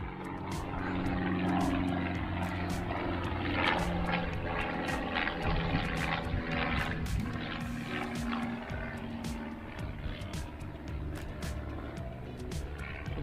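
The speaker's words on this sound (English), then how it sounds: "I think there's that plane again." A propeller plane drones steadily overhead near a Murray River town, a continuous, fairly loud engine hum filling the whole stretch with no talking over it.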